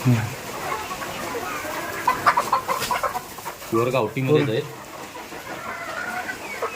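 Poultry hens cluck in a coop fitted with laying boxes and high night perches, with several near clucks rising over a voice speaking throughout.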